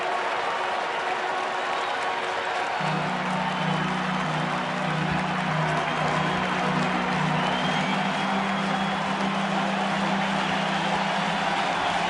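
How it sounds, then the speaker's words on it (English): A huge baseball crowd at a Dodgers at Cubs game rises and cheers with bases loaded and a full count, a loud continuous roar of cheering and clapping sustained throughout with a low horn-like drone entering partway. "This huge crowd getting up."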